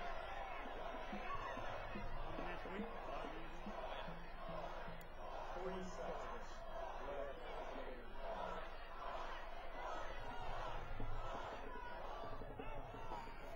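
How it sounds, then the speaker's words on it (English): Crowd at a high school football game, a dense, steady roar of many voices with rhythmic chanting pulses running through it, loud and continuous throughout with no clear break. "So apparently the chant of the crowd was heard by the officials."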